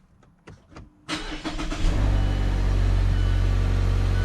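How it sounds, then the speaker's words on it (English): A 2016 Mazda 6 engine cranks briefly after a few faint clicks, then catches and settles into a steady, loud idle close by. "I'm going to start up the vehicle."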